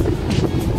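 Strong wind buffeting the microphone outdoors at sunrise on a cold morning trip, a steady loud rumble with gusty swells throughout and no voices.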